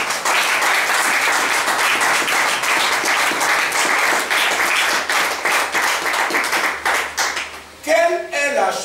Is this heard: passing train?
no